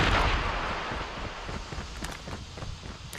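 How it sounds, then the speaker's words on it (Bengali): Distant enemy machine gun fire in Call of Duty Mobile rattles in scattered short bursts over a rumbling battlefield wash, with no talk. "ও আমাদের এইখানে একজন মেশিন গান চালাচ্ছে।"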